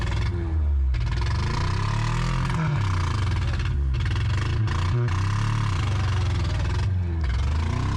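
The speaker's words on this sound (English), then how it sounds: "The rear tires are just spinning in place." Abandoned Ghostbusters Ecto-1 car with its engine running and rear tires spinning in place, a loud continuous low rumbling drone with wavering pitch, close and dense throughout.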